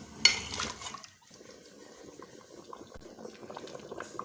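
Beef paya curry simmering in a pot, bubbling and gurgling steadily at close range after a brief louder splash at the start.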